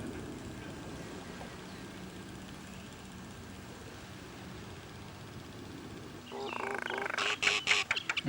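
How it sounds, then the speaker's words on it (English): Small, tame birds chirp at a tranquil resort, their sharp calls building from about six seconds and growing louder and busier toward the end over a steady low background. "These are quite funny little birds, actually."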